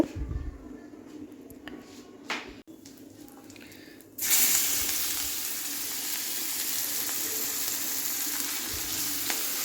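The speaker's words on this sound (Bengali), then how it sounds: "মাছ ভাজা হয়ে গেছে" Fish frying in a wok: after a few quiet knocks, a loud hissing sizzle bursts in and continues steadily, close and dense.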